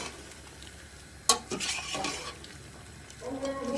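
A spoon scrapes and clatters against a pot as korma masala is mixed into chicken, with one sharp knock and then a soft bubbling sizzle underneath, close by.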